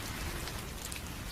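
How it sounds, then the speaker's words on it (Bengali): Steady rain falls outside in a Bengali ghost-story cartoon, a dense, even patter of drops on surfaces with no voices over it. "এদিকে বাইরে বৃষ্টি।"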